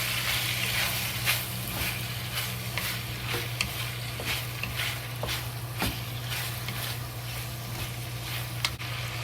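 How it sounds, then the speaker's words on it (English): Sliced beef seasoned with dark soy sauce being stir fried for cumin beef, a steady close sizzle with repeated scraping strokes of a spatula in a wok over a low kitchen hum. "Stir fry."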